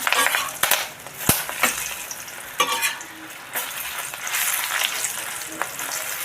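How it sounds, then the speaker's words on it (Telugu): Dried red chillies fry in a pan for gonguura chutney, giving a crackly sizzle with sharp stirring clicks and scrapes of a utensil against the pan, close and fairly loud. "నెక్స్ట్ మనం ఎండుమిర్చి వేయించుకుందాము ఎండుమిర్చి మంచిగా వేయించేసుకుందాం"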